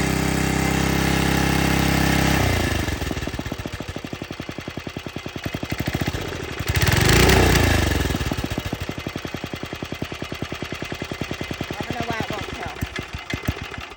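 Small engine on a wood splitter running after a pull start, a close, loud, rapid mechanical chugging that dips, surges briefly, then settles into a steady rattling idle.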